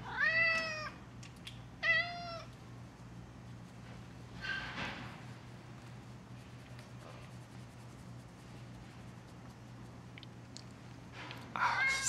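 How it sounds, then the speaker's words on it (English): A domestic cat gives two clear meows close by near the start, then quiet room hum follows, with another brief cry at the end. "Such a good cat."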